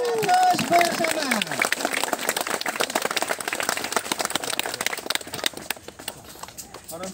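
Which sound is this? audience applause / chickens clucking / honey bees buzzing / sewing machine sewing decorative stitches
audience applause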